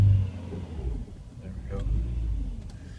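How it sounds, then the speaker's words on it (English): The engine of a 1995 Oldsmobile rumbles low and close while idling, swelling in a brief rev, with a person talking over it. "if it revs up a bit, then it'll go"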